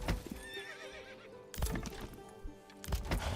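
Video game horse neighing, a close, loud whinny with a shaky, wavering pitch, then hoof clip-clops and a second neigh starting, no talking.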